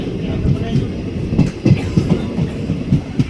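Passenger train running on the Lathi to Junagadh line, wheels clattering over rail joints in a steady rhythmic clickety-clack with a constant rumble, heard from inside the carriage.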